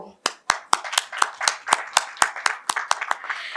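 About a dozen sharp, evenly spaced claps ring out close and loud at the Punjabi Filmfare Awards, with a voice talking over the rhythmic clapping.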